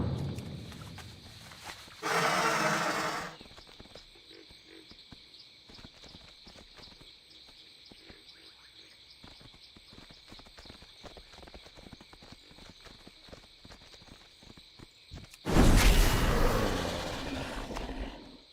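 Horse hooves clip-clop steadily at a walking pace while riding in World of Warcraft, a long even rhythm of soft clops, with louder swells of game sound at the start and end.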